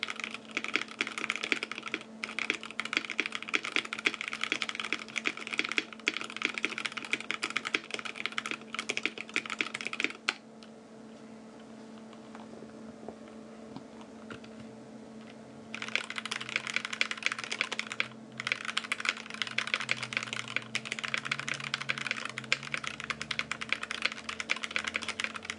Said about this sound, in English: we'll start off with some pseudo typing of this guy